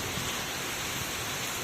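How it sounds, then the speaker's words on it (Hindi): Heavy rain pours down steadily outdoors over a vegetable garden, a dense continuous hiss with no talk during the moment. "बहुत तेज बारिश है।"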